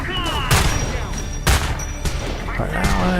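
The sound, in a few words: gunfire in video game Homefront: The Revolution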